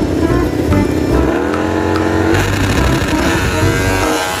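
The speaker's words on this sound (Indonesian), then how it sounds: "Yang ini ada motor balap." Toy racing motorcycle engine whining and revving steadily, loud and close, with pitch rising and falling over a few seconds.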